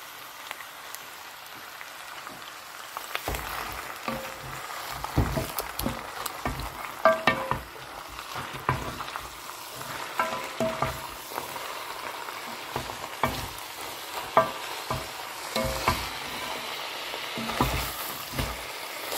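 Sauerkraut is frying in a pan for a braised dish with smoked ham hock and pork ribs, giving a soft, crackling sizzle broken by repeated scraping stirs. It is fairly quiet with no voices.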